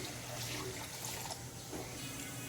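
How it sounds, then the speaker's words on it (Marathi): Water poured into a pot of tomato saar on a gas stove, a quiet, continuous splashing and trickling wash with a soft hollow undertone, no speech heard. "त्यात हे सर्व भांडं धुवून मी पाणी टाकते"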